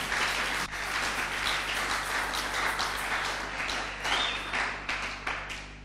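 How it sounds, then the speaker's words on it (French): A church congregation claps and applauds through a worship service, a dense steady wash of many hands at moderate distance with a few sharper claps standing out near the end. "Ah, acclamons Seigneur Jésus"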